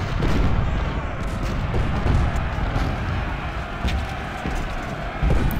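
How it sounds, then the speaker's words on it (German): Cannon fire from a Civil War battle at Stones River in the video game Ultimate General: Civil War: a dense, continuous rumbling barrage of booms and blasts, loud throughout. "So. Kanonen. Feuer,"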